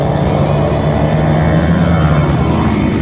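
Flat track motorcycles race in a heat, their engines blending into a loud, continuous droning roar from close by, with no break across the few seconds.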